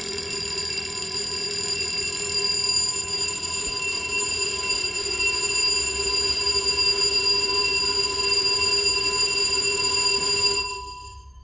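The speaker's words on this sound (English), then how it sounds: "As soon as he does that, it dislodges the glass and the bells start ringing." Fire alarm bells in a Gloucester building ring loudly and continuously after the glass of a call point is dislodged during alarm testing, a steady piercing tone that cuts off near the end.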